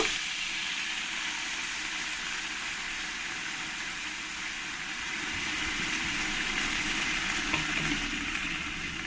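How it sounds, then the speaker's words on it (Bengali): Taro corms fry with spices in a pan, an even, close sizzle that carries on without a break, with faint scraping from stirring beneath it. "আমি দু মিনিট ধরে ভালো করে একটু কচুর মুখিটাকে একটু একসঙ্গে ভেজে নেব"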